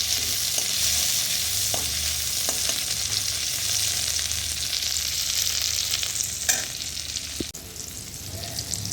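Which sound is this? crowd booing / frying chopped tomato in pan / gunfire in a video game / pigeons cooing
frying chopped tomato in pan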